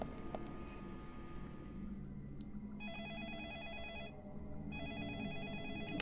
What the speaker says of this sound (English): we have received a phone call.